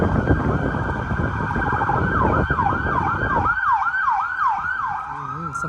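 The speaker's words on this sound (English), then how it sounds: "I don't know if you hear the sirens behind me." Emergency sirens wail nearby on a street in Washington, DC, rising and falling in repeated sweeps over steady road traffic noise.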